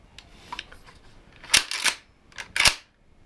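Mossberg 500 shotgun being function-checked: a quick series of crisp mechanical clicks and clacks from the safety and action, ending in two sharp dry-fire snaps, close and distinct with no talking.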